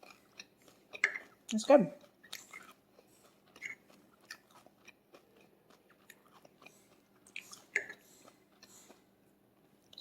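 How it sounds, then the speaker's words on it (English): Someone bites and chews crispy breaded tonkatsu pork cutlet served over rice, with close, crunchy mouth sounds in uneven bursts; a person briefly speaks. "It's definitely crunchy, that's for sure."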